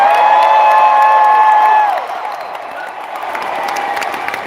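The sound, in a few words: crowd cheering and applauding fans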